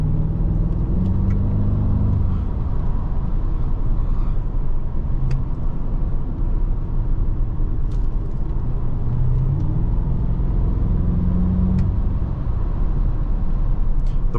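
A 2005 BMW 645Ci driving through corners produces a loud, steady engine rumble and road roar heard from inside the cabin, with brief rises in revs and no talking.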